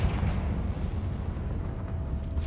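A Confringo fire spell blasts something in the video game Hogwarts Legacy, giving a loud, sustained rumbling roar that holds steady for a couple of seconds with no voices over it.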